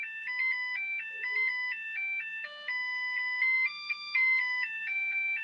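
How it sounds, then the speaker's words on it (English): A mobile phone ringtone plays a melody from Beethoven's Ninth Symphony as clean electronic tones stepping up and down in a steady rhythm, clear and continuous with no talking over it. "my phone plays Beethoven's Ninth"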